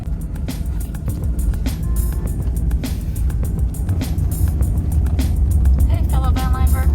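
A van drives along with a steady road rumble and engine drone, clicks and rattles from inside the cabin, and occasional faint voices.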